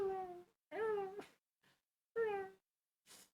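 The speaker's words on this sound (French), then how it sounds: "Son chat miaule dans la pièce d'à côté." A cat meowing in the next room, two clear drawn-out meows with a shorter cry between, fairly close but slightly muffled, separated by near silence and a few soft knocks.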